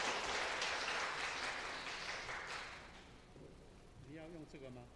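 A church congregation applauds to welcome a speaker during a Sunday worship service, a dense wash of clapping that fades over a few seconds before a voice starts speaking.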